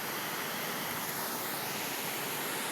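Dilusong River flowing past, a steady broadband rush of water that holds constant and fairly loud throughout with no voices.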